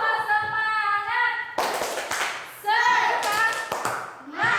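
Primary schoolchildren in a fourth-grade classroom perform a rhythmic clapping routine, short bursts of many hands clapping in patterned beats alternating with a teacher's voice and children chanting along.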